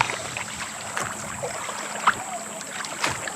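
Kayak on the Mattabesset River in Connecticut, soft paddle dips and water swishes close by under a steady breezy background, with a faint click partway through.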